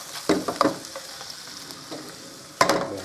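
Soy-marinated meat sizzles and crackles in a hot pan as it fries, with a few sharp bursts of stirring or tossing over a steady, moderate frying hiss.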